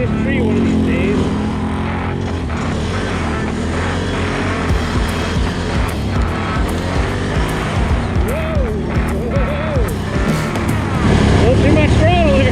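A 2021 Can-Am Renegade 1000 X MR ATV's engine runs steadily while riding a trail, a loud continuous rumbling drone with slight throttle swells and a rise near the end, with a voice talking over it.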